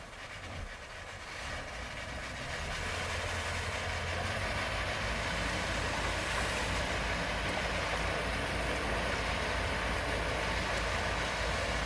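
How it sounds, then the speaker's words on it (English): A Marada boat engine on a lake revs up in reverse, its steady droning roar swelling over the first few seconds and then holding loud and constant close by. "Pop it in reverse and give it a little gas."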